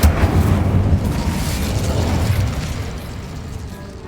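A loud explosion from the Bombarda spell in the Hogwarts Legacy video game, a heavy booming blast that slowly rumbles away.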